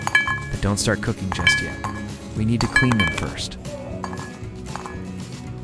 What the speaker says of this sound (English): Do you hear that pleasant clinking sound?